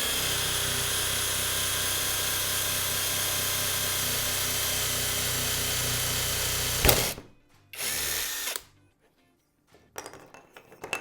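A high-torque cordless drill whirs steadily at full speed for several seconds, then stops; a short second burst follows, then a few clicks and rattles.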